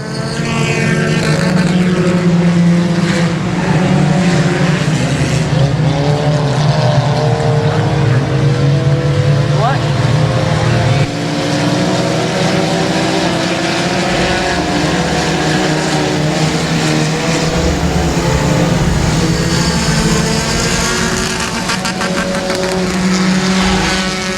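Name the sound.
race cars racing at Timberline Speedway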